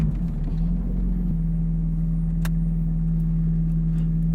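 The engine of a 1982 Pontiac Firebird, left sitting for 25 years, runs with a loud, steady low drone and rumble from inside the moving car, holding an even tone with a brief tick partway through.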